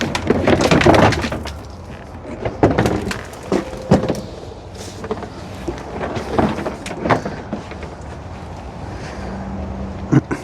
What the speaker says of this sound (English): Now with all the bolts removed, we'll go ahead and remove the bumper. You have to clip it out from both sides.